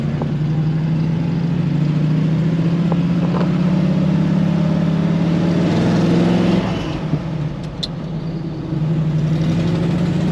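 A 1953 Ford F100 pickup with a V8 engine drives and revs, its deep engine drone rising in pitch, dipping briefly around a gear change, then picking up again, close and steady throughout.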